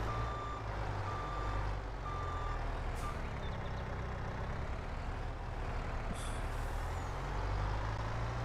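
A skid steer in Farming Simulator 22 rumbles with a steady low engine drone, while regular reversing beeps repeat at intervals and a short hiss bursts in twice.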